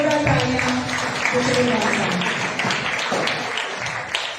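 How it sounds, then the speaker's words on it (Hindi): A congregation at a Friday prayer meeting claps together in a steady, dense round of applause that tapers off over a few seconds. "सबको दावतों की जोरदार तालियां"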